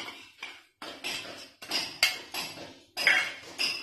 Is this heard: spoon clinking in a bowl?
yes